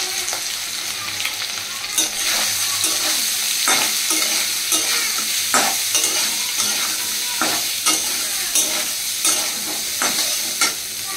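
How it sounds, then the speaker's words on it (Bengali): Soybean chunks, seasoned with salt and turmeric, fry in hot oil in a wok, giving a steady close sizzle broken by repeated scraping stirs every second or so, with no talking. "করে একটু ভেজে নিচ্ছি"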